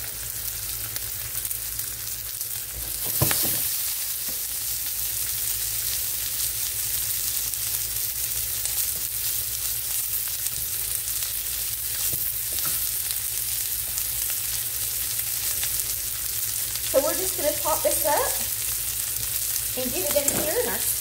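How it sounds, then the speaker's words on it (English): Smoked sausage browns with onion in a skillet with olive oil and butter, a steady soft sizzle throughout with a clatter of stirring near the start and brief clinks later on. "And get it in here in our skillet with our onion. Got a little bit of olive oil, a little bit of butter. We're going to start browning that up."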